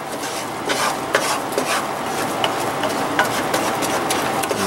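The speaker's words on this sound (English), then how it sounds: "all the air bubbles are trying to get out as the butter's boiling off all its liquid" Butter boils and browns in a pan for mac and cheese, a steady close bubbling sizzle with utensil scrapes and clinks against the pan throughout.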